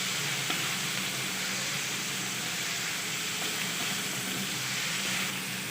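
Beef liver masala with coriander powder sizzles and is stirred in a pan, a continuous even frying hiss with faint scraping, close and steady, without speech.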